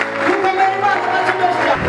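A crowd claps steadily through a church gathering, the applause sustained and fairly loud, mixed with voices and a musical tone.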